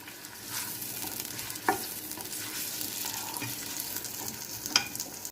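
Onions brown in hot oil for beef nihari, a steady close sizzle with occasional spatula knocks and stirring scrapes, two sharper clinks standing out, no one talking.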